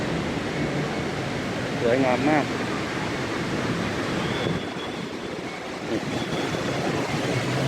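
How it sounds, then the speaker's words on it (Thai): Indoor artificial waterfall inside Siam Paragon shopping mall in Bangkok, a steady broad rush of falling water filling the space continuously, with people talking over it. "นี่น้ำตก"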